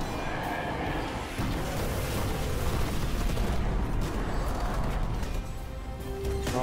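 Dense gunfire rages nonstop in a Destiny-style co-op raid, shots layering into a loud, continuous barrage with no clear gaps between them.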